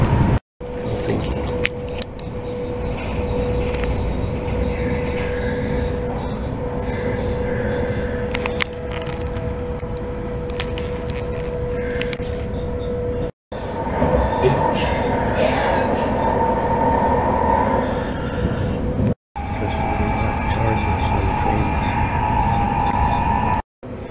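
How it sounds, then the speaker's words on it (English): Steady rumble and rattle of a moving train at Helsinki heard from inside the carriage, continuous throughout with two brief dropouts and faint tonal hum. "You're on the train at Helsinki."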